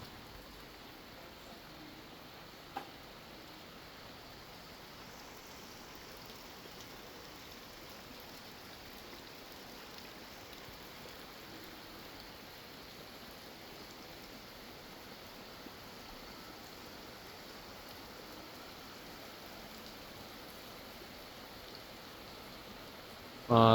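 Steady, even hiss of rain falling continuously in Bali, fairly soft and unbroken, with a brief louder burst at the very end.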